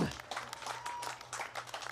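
Crowd at a UK drift competition applauding a third-place finisher, scattered clapping heard at a distance through a busy outdoor ambience, with a voice over the top.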